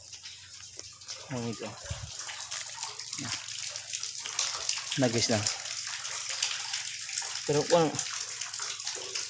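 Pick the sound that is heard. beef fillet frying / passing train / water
water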